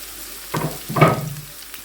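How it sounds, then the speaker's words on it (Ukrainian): Chopped onion sizzles in a frying pan, with two soft bursts of crackling and stirring rising over a quiet background hiss, close and fairly faint. "Підсмажуємо її до карамельного кольору"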